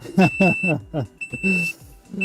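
A thin, high electronic beep repeats intermittently under a person's close speech, steady in pitch and easy to pick out between words.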